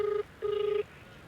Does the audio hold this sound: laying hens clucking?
no